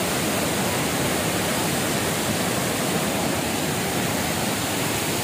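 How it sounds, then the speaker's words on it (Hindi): Tirathgarh waterfall in Bastar roars in monsoon flow, a dense, unbroken wash of loud rushing water that fills the whole stretch at constant strength. "बहुत ही शानदार वाटरफॉल है यार यहाँ का"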